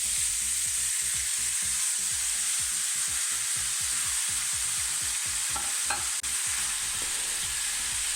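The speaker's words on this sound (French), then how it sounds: "Dans une poêle, je verse de l'huile d'olive et je verse tous les légumes d'un seul coup dans la poêle." Mixed vegetables frying in olive oil in a pan for tchoutchouka, a steady loud sizzle throughout, with a rhythmic stirring scrape and a few brief utensil clinks near the end, no voices.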